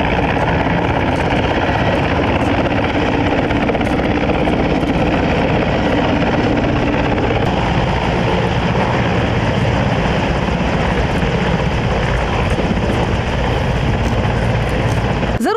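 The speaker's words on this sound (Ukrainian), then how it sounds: "а за пораненими прилітають гелікоптери" Helicopters fly in to evacuate the wounded during a military counter-terrorism training exercise, a loud, steady rotor and engine roar that fills the whole stretch without a break, with no talk.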